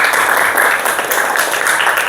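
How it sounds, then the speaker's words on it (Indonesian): A classroom of students claps together in a steady, lively burst of applause at the end of a lesson, close and continuous throughout. "Tepuk tangan untuk kita"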